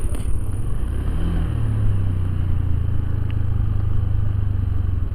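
A Honda Beat Deluxe scooter coasts after the throttle is released, giving a steady low engine and drivetrain drone with faint road clatter, fairly close and continuous with no talk over it.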